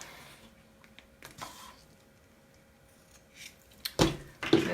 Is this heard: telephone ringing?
no